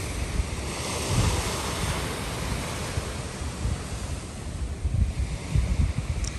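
Calm ocean surf washes steadily along the shore in broadband rushes, with wind buffeting the microphone and soft swells rising and falling throughout, no voices present.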